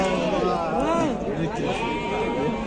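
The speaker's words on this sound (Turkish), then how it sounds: "Kuzular görüyorsun, kuzular bana kuzular çıktı." Lambs bleat repeatedly at a livestock farm in early March lambing season, their wavering cries close and overlapping amid steady background chatter and people talking.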